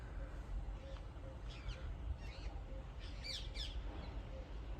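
Pigeons gathered at a truck unloading point where bran is unloaded: scattered faint chirps and calls over a constant low rumble of background noise, somewhat distant.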